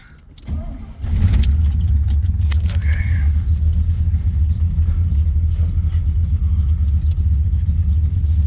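A cammed 1977 Corvette V8 engine turns over and settles into a loud, steady, deep rumbling idle, heard up close from behind with a faint jingle early on.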